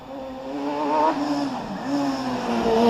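One-litre Force single-seater race car on a hillclimb course, engine screaming loud and close with rising revs, a brief dip at a gear change, then pulling hard again, alone with no voices.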